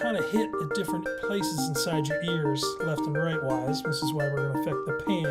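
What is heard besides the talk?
No everyday noise stands out behind the speech.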